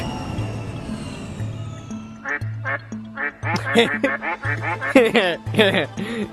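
A duck quacks in the video game Out of Scale: A Kurzgesagt Adventure, a loud run of about a dozen rhythmic quacks over a low repeating musical bass line.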